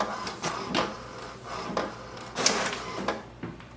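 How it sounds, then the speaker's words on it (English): An HP DeskJet 2942 inkjet prints its alignment page after an HP 68 cartridge swap, giving a series of mechanical whirs and clicks as the carriage moves and paper feeds, close and fairly loud in uneven bursts. "Wait for the printer to print the alignment page."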